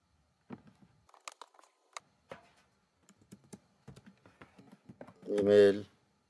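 Scattered keystrokes on a computer keyboard, soft and close, in short irregular bursts, followed at the end by a brief voiced sound.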